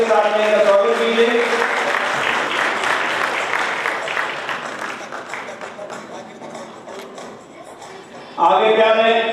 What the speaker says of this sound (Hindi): जोरदार तालियों के साथ में इनका स्वागत कीजिए।